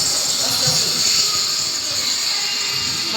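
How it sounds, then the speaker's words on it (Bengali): A train rolls in alongside a station platform, a steady broadband rumble of wheels and carriages with a high hiss over it, continuous and fairly loud throughout, with no clear talk on top. "এই ট্রেন আসছে, তো তাড়াতাড়ি দাঁড়াও,"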